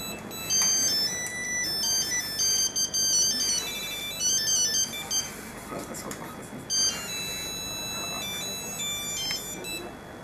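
An incoming-call phone ringtone plays loud and steady for about ten seconds as a repeating electronic melody, with faint background talk beneath it.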